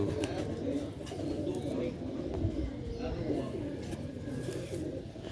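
Soft, low cooing from Sialkoti rooftop flying pigeons runs beneath steady male speech, with occasional faint chirps in the background.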